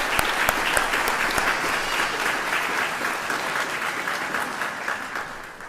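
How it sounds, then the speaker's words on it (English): Steady applause from an audience at a nursing pinning ceremony, sustained clapping from a large crowd filling the whole stretch without talk. "let's give them a round of applause because it's all about what they did for you too"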